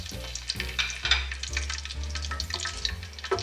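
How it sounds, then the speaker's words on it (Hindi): Three split green cardamom pods fry in a spoonful of oil for zarda sweet rice, a steady close sizzle with a few stirring scrapes and no one speaking. "इलायची को मैंने 1 मिनट के लिए फ्राई किया"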